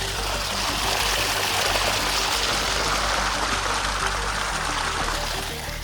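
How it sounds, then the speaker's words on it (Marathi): Well water flows into a sugarcane field in a steady, close, continuous rushing gurgle that holds even throughout, with no voices. "उसाला पाणी लावले."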